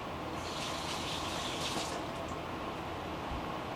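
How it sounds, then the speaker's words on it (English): Water runs from a kitchen tap as an onion is rinsed beneath it, producing a steady, moderately loud gushing splash that stays constant throughout the few seconds. "I just rinse and dry because I don't want my knife to slip."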